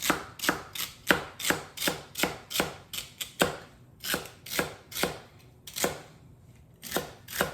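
Knife chopping celery stalks on a cutting board, a steady run of sharp, close, evenly spaced thuds, roughly two or three per second, with no talking.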